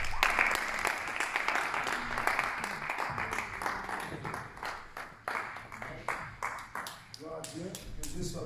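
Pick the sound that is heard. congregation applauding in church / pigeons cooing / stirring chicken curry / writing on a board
congregation applauding in church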